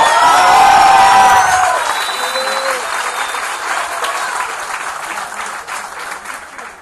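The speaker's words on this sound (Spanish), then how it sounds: "¡Un aplauso para don Hugo!" Loud audience applause and cheering at a conference, with whoops and shouts over dense clapping that swells at first and then settles into a steady, softer ovation.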